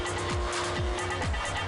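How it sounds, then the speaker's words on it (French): Car tires squeal continuously and loudly under a roaring engine during a tire-smoking stunt show at a tuning event in Magnicourt, France, with no pause. "des shows qui font crisser les pneus"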